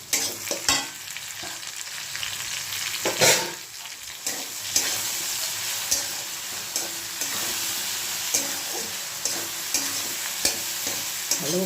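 Tomatoes being stir-fried in a pan for a Bengali liver curry: continuous close sizzling broken by frequent scraping and clacking strokes of a spatula, fairly steady throughout with no voices.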